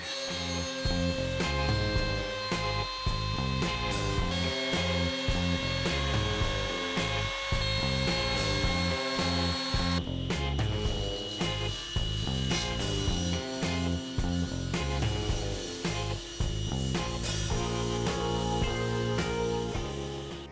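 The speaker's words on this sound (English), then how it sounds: "the method that I prefer is to use a trim router with an offset base, an edge guide, and a mortising bit" A trim router with an offset base, edge guide and mortising bit trims edge banding flush on plywood, a loud continuous high-pitched whine with cutting chatter, close and steady.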